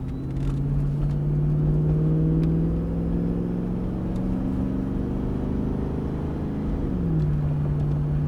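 A 5.3 litre V8 winds up under acceleration while driving, a steady loud engine drone rising in pitch, easing briefly near the end before climbing again, with no talking.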